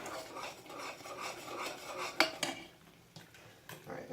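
A spoon scrapes and rubs around a pot, stirring brown sugar into condensed milk for fudge, with soft repeated scraping strokes and a few sharper metal clinks, close and fairly quiet, with no talking.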